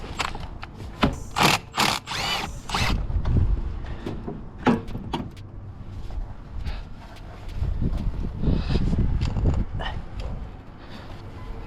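Ratchet loosening the VVT solenoids on a Volkswagen Golf R engine: quick bursts of clicking pawl strokes, close and crisp, stopping and starting with a few mechanical clunks and faint knocks between them.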